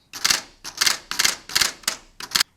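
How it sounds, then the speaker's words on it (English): Keys struck one at a time on a Barbie toy typewriter, six sharp plastic clacks at a steady, unhurried rhythm, close and dry with silence between strokes. "And let's just type in just my typewriter."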